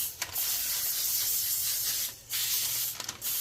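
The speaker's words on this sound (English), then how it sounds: "We're going to spray the inside of the parchment paper with some cooking spray." Cooking spray hissing onto parchment paper lining a baking pan, a steady close spray lasting most of the moment with two short pauses between bursts.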